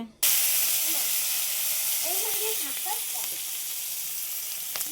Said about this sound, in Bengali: আর এখানে তেল দিয়ে দিয়েছি কড়াইতে।